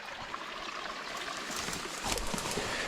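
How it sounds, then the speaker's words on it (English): Water running through an outlet on a farm, a continuous trickling, splashing stream heard close by, growing a little louder and more gurgling toward the end. "Water is flowing somewhere."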